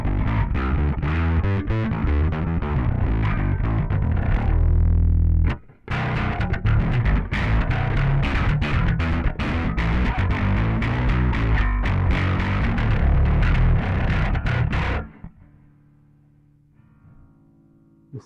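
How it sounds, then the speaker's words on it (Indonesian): Bass guitar played through a Joyo Monomyth bass preamp with the distortion drive turned up to full, loud fuzzy notes in a busy riff, a brief gap near the start, then fading to a low sustained hum at the end. "Dengar ya distorsi ya."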